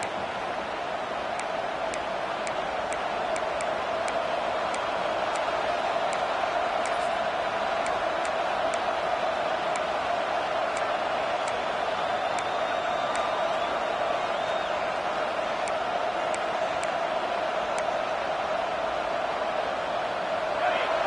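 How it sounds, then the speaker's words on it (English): A college football stadium crowd at a Texas Tech game against Florida roars in a steady, broad wash of cheering that lasts throughout, with faint whistles and clicks on top. "this crowd trying to help keep them there"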